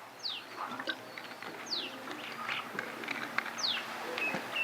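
Pigeons coo softly in a large loft, with scattered chirps and a few sharp calls over a quiet, faint background, with no talk.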